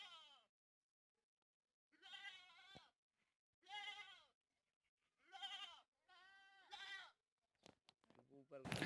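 A male goat with long ears and pink skin, kept in Chambal, bleats repeatedly at close range in four or five loud, wavering calls separated by silence, ending with some rustling and clatter.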